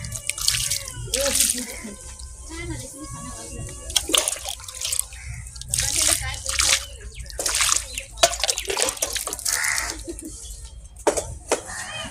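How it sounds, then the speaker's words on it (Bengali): Tap water runs and splashes as hands and feet are washed, with irregular bursts of spattering and dripping over a steady background, fairly close and loud, with no talk. "তো ঢুকে পরে হাত পাগুলো ধোবো"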